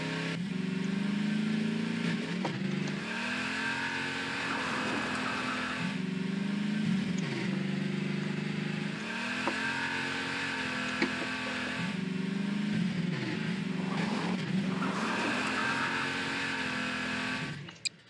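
A steady engine hum with repeated rising revs from a jeep in Garry's Mod, like a car accelerating and shifting in cycles, continuous and fairly loud with no talking.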